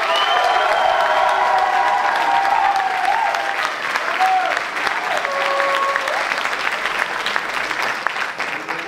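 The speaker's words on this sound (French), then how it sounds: "Un tonnerre d'applaudissements, elles le méritent." Steady, dense applause fills a lecture hall at a student arts presentation, with scattered cheers and whoops rising over the clapping, loud and continuous throughout.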